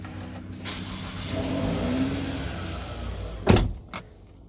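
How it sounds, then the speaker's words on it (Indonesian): A 2014 Toyota Vellfire ZG Premium started with the push start button: a low engine rumble builds and settles into idle, then a sharp mechanical clunk and a second smaller knock follow near the end. "Pertama-tama kita harus injak rem dan tekan tombol start engine button."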